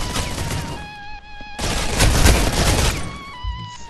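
Vector submachine gun in the mobile shooter Critical Ops fires rapid bursts, loud and close, with a short pause between volleys and gunfire resuming on top of game effects and ringing tones.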